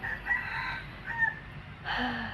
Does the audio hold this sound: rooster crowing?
yes